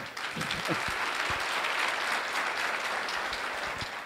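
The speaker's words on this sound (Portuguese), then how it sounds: "Palmas para o Edson." An audience at a business lecture claps steadily for several seconds, a dense wash of applause with a few distant voices underneath.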